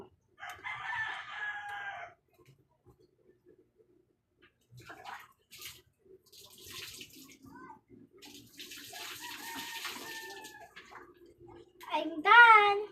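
Hands are washed under running water, a soft splash heard in brief bursts, while a rooster crows nearby and a person speaks between the bursts.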